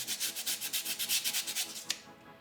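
Sandpaper rubs the glossy coating off a white Vaxee Zygen NP-01 computer mouse in quick, rhythmic back-and-forth strokes, a close, soft, hissing scrape repeated about a dozen times before stopping.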